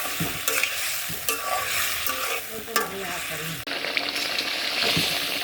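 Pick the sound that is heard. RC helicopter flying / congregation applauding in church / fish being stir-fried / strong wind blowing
fish being stir-fried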